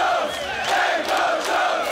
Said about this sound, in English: Now scream it louder.